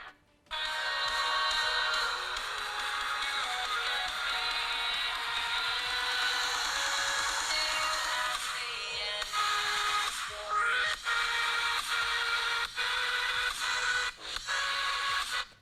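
Music plays at maximum volume, loud and thin from a General Mobile GM 20 phone speaker, harsh and tinny with little bass, sustained for the whole stretch with brief dips near the end.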